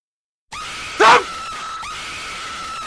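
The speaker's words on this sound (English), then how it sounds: "Somebody just donated, and it plays a jump scare sound effect." A jump scare sound effect triggered by a stream donation: a sudden loud shriek-like scream bursts out briefly over a steady background tone, then fades.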